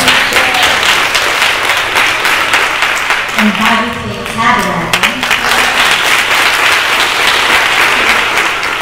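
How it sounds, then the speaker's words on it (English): Sustained audience applause fills a church service at Universal Temple of God, dense and steady throughout, with someone speaking briefly over the clapping near the middle. "You can give yourselves a round of applause."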